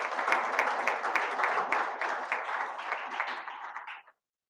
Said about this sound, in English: So a big round of applause to it.